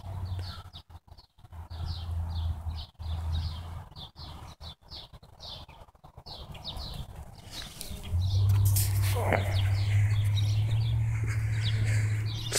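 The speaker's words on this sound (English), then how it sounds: "The birds agree once again." Small birds chirp and tweet repeatedly outdoors in a steady series of short calls, with a low rumbling hum rising underneath in the second half.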